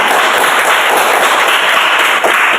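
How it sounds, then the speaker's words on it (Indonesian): Classroom applause for a group's answer: a dense, steady, loud wash of many hands clapping together, sustained without pause and no talking. "Tepuk tangan semua."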